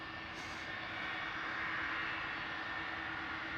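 A Korean Air Boeing 747-8 taxiing at Schiphol gives off a steady, fairly distant jet engine roar that swells slightly and holds throughout.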